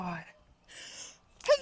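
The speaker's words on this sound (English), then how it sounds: "Oh my god, I'm sneezing." A person sneezes outdoors in a backyard, a sharp burst at the end following breathy, gasping build-up sounds close to the microphone.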